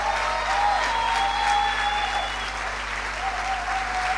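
A church congregation gives a sustained round of applause welcoming Apostle Martín Angulo, dense clapping filling the room steadily for several seconds, with faint voices and a thin tonal line drifting through, like a microphone ringing or someone calling out.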